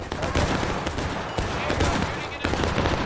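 Dense musket volleys crackle through a War of Rights Civil War battle, a sustained barrage of overlapping shots near and far with bursts around each second, with faint voices shouting beneath.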